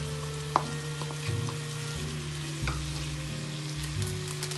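Chopped garlic cloves sizzling steadily in a hot pan for a stew sauce, a close, even frying hiss with faint clinks of stirring.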